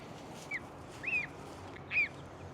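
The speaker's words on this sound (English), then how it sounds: "We just got another flock of chickens, and then we got some baby geese" Three faint, honking calls from young geese come spaced across a quiet outdoor background, distant and brief, on a farm with chickens.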